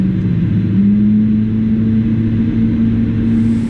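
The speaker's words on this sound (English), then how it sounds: "listening to the sound of those powerful GE 90-115B engines" A steady, loud GE90-115B jet engine whine and rumble at idle on a Boeing 777-300ER, a sustained low hum with a rising tone, no voices.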